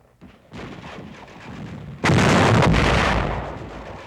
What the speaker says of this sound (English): A fixed charge is made ready to neutralize another point of stubborn Jap resistance.